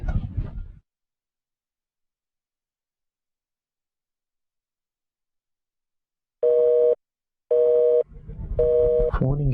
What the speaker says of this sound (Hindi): फोन इंगेज आ रहा है।